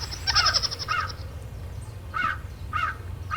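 A crow caws several times nearby, harsh repeated calls in a short series, over a steady low outdoor background hum.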